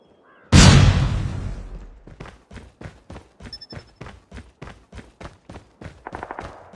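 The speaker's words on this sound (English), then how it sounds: "Flashbang!" A Call of Duty Mobile flashbang grenade goes off with one sudden loud burst that rings out and decays, followed by a quieter run of rhythmic, evenly spaced beeping pulses, with no voices.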